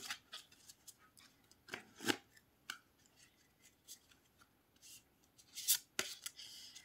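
Oracle cards shuffled by hand for a tarot-style draw, giving a string of quiet, quick papery riffles and snaps at varying pace, close by and fairly faint, with no talking.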